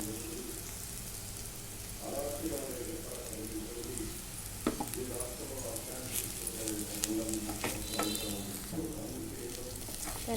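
Ivy gourd fry being stirred in a pan with chili powder, crushed garlic and peanut powder, giving a continuous close sizzle with scraping stir strokes and light crackles throughout.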